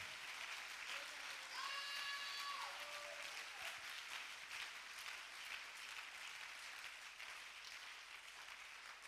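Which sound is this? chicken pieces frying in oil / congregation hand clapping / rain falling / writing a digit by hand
congregation hand clapping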